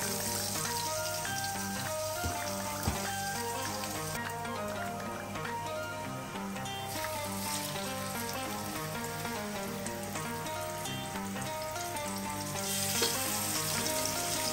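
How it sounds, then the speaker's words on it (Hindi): Tandoori chicken drumsticks fry in a pan with a steady, dense sizzle throughout, broadband crackle holding even with no pauses and no voices. "ये देखो 2 मिनट खाली फ्राई करके साइड में रख देने का"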